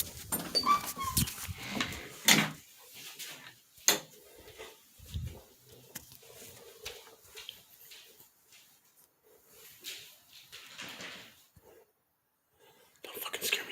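A dog whimpers and whines in soft, broken bursts at close range, interspersed with faint rustles, thumps and quiet gaps, with a person reacting nearby.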